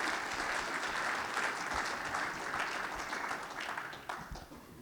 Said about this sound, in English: Give Alan a warm round of applause.